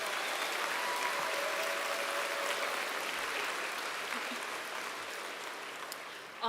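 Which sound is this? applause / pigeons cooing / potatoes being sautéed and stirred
applause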